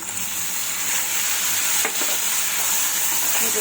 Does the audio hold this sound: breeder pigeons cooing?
no